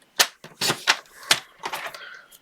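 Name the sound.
trimming card stock for a shaker card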